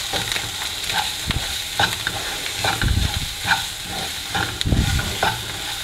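Spice powder stirred into a frying pan for spicy egg curry, giving a soft continuous sizzle with scraping stir strokes coming in irregular bursts, close and moderately loud with no talking.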